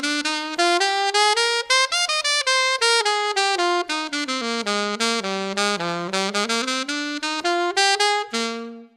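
A solo melodic instrument plays an improvised G Mixolydian line that opens with a triplet on beat one, then runs as a fast, clear, legato stream of notes close up, ending on a held note that fades.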